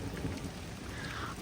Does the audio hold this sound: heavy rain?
yes